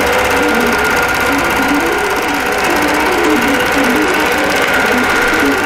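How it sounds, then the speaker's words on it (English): A sewing machine runs steadily while quilting around a star at the center of a wholecloth quilt, its fast even stitching rattle loud and close without a break. "This is my very center, and it's sewing around the star."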